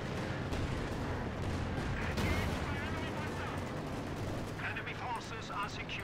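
Tank gunfire in Company of Heroes 2 during a Soviet versus Ost match, with a Panther firing: dense, continuous battle noise of cannon booms and rattling gunfire, plus a faint commentary voice underneath.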